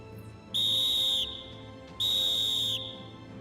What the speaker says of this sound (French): Avant la mise à feu, 4 coups de sifflet bref.